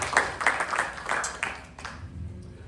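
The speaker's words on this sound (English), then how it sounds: "give our musicians also a nice round of applause" Audience applause for the musicians at a youth yajna gathering at Shri Trimurti Bhavan, with a run of sharp claps fading toward the end and a low murmur of voices beneath.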